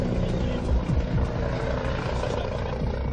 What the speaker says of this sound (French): Dans son hélicoptère muni d'une caméra spéciale, le capitaine repère très vite